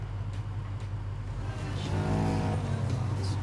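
A blue Porsche 911 RSR with a 3.6-litre engine in the racing game Need for Speed Heat hums steadily, then rises into a louder revving whine partway through, heard alone and fairly close.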